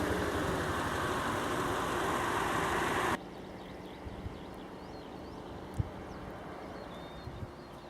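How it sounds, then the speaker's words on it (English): Old tractor engine heard from a following car on a winding country road near Bautzen, Saxony, Germany: a steady loud rumbling drone for about three seconds, then an abrupt drop to a quieter low hum with a few faint clicks and knocks. "he's trying to overtake this old school tractor and it's proving very difficult on these windy roads"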